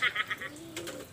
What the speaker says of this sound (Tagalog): O yan, mga ibon natin ayan mga kalapatids.